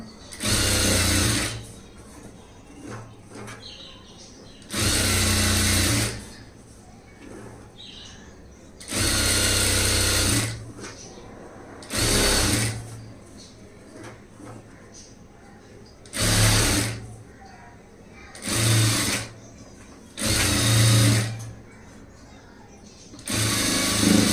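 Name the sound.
sewing machine stitching a front gap blouse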